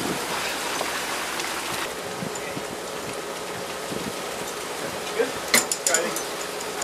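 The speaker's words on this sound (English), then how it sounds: "it is raining like crazy" Heavy rain pours steadily outdoors as a dense, even wash of noise, with a few sharper knocks and splashes near the end and voices talking faintly underneath.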